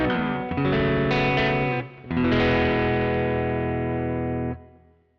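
An electric guitar plays sustained chords, sent through a Deverb plate reverb plugin in Pro Tools. The chords ring loud and close, with a short break before the last chord, which decays in a smooth wash of reverb.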